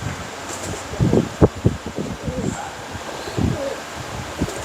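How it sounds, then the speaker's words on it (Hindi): Plain domestic pigeons at a breeder's loft make soft, low cooing pulses in irregular bursts, close by, with faint rustling and a background fan hum. "ये बड़े खूबसूरत, सादे सिंपल, सादे कबूतर हैं"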